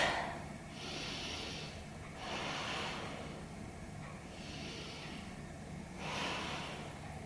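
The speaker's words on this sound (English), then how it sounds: "let's take 3 big breaths" Big deep breaths drawn during a yoga stretch, three long, hissy inhale-exhale swells spaced a couple of seconds apart, close and fairly soft, with no talking.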